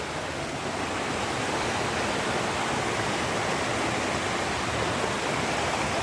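Daranak Falls in Eastern Samar pours as a steady, broad wash of rushing water that stays loud and even throughout, with no voices.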